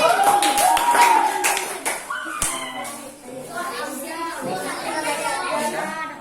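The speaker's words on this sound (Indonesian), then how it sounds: "Tepuk tangan." Classroom of children clapping hands for a group presentation, sharp claps at the start that give way to chatter and children's voices, with a few more scattered taps.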